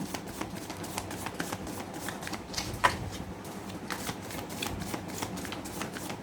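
Tarot cards being shuffled by hand, a steady run of soft riffling flicks and papery snaps with one sharper slap partway through, close and moderately quiet with no talk over it.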